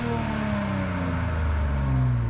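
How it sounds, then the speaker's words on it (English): Exhaust of a new Nissan Z with a manual gearbox idling just after start-up, a steady low droning rumble heard up close and continuous. "Let's give it a quick exhaust check."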